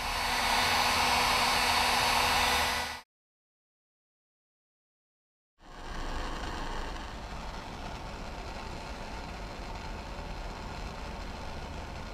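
A heat gun blows steadily on heat shrink tubing over freshly soldered motor leads during restoration of a 1936 Wizard Junior hobby drill press, cutting off abruptly, then a quieter steady airflow resumes after a few seconds of silence.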